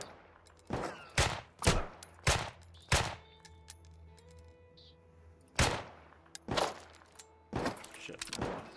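Pistols fire in the survival video game Deadside: sharp, loud shots come in quick clusters of several rounds, with a pause in the middle before another burst.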